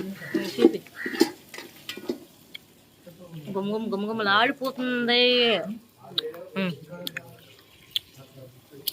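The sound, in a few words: country chicken being stirred into frying spices in a pan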